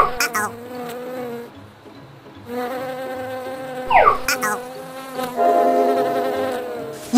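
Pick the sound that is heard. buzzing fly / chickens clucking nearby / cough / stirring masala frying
buzzing fly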